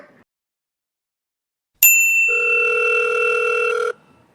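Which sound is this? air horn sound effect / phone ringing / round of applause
phone ringing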